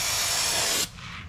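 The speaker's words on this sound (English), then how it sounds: "Get yourself a can of brake parts cleaner." An aerosol can of brake parts cleaner sprays onto a Ford Flex rear brake in one loud, steady hiss that cuts off abruptly, leaving a faint residual hiss behind.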